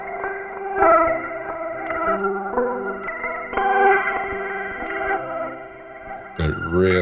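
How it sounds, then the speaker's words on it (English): Synth tones run through a Boss DM-101 analog delay give a wobbly, degraded sound like a worn-out cassette, with dense chordal notes and smeared repeats that continue steadily before a short pitch swoop near the end. "It really sounds like a very worn out cassette."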